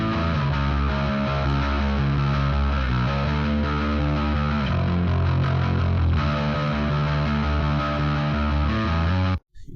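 Bass guitar run through a Bogren Digital Ampknob amp simulator with distortion and compression, a thick, gritty, steady riff sustaining loudly for nearly ten seconds before cutting off abruptly.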